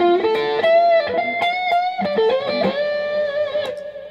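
Electric guitar driven through an OCD overdrive pedal into a Fractal Axe-Fx, playing a short bluesy phrase of sustained, bent notes and chord stabs with a warm, crunchy tone, loud and alone.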